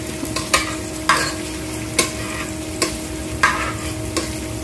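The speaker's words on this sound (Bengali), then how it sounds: "এবার এভাবে নাড়তে থাকতে হবে নেড়ে একটু পেঁয়াজটা বাদামি কালার হয়ে গেলে" Chopped onion sizzles steadily in a hot pan, with about six distinct scraping stirs of a spoon breaking through the frying at roughly even intervals, close and fairly loud, with no voices.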